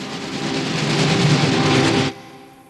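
A passenger train runs along the rails with a loud, steady broadband rumble and low hum, then cuts off abruptly after about two seconds, leaving quieter background noise.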